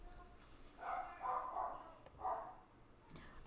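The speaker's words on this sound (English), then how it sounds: "I just switched back and there was barking again, but hopefully it'll be a little calmer" A dog barks in a few muffled bursts, three fairly close woofs spaced about a second apart, then a faint sharp sound near the end.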